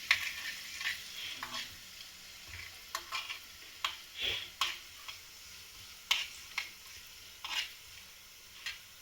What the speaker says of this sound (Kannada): ಆಮೇಲೆ ಸ್ವಲ್ಪ ಫ್ರೈ ಮಾಡೋದು.